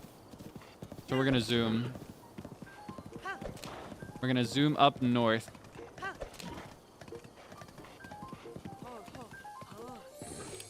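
Hooves clip-clop rhythmically in a quick gallop in the video game The Legend of Zelda: Breath of the Wild while a person talks over it, with a horse's snort or whinny mixed in.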